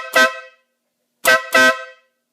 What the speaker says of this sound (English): it is way louder than the factory horn